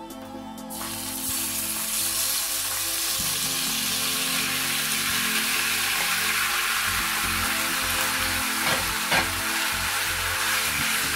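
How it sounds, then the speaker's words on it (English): Beef sizzles and fries steadily in hot coconut oil for a Chinese beef and vegetables dish, a loud continuous crackle with occasional stirring scrapes and no talking. "I will be stir-frying my beef"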